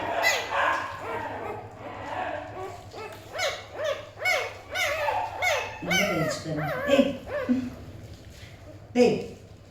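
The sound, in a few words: dog whining and crying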